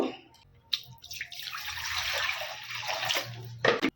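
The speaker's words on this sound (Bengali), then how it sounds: "কড়াতে একটু জল দিয়ে দিব" Water poured into a wok on a gas stove for a cauliflower dish, a steady rushing pour of a few seconds with small splashes at the start and end, close and moderately loud.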